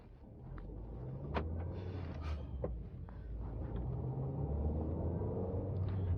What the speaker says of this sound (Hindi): अगर आप इंजन के रेव सुन पा रहे हो गाड़ी के अंदर